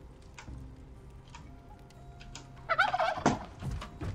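Turkey gobbling in the survival game Soulmask, a burst of rapid warbling gobbles near the middle of the clip over a quiet ambient game background with faint ticking.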